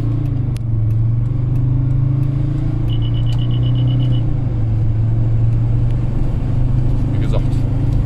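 A Mercedes car engine runs steadily below full throttle, a loud continuous rumble with a slight dip in pitch midway and a short beeping tone in the middle.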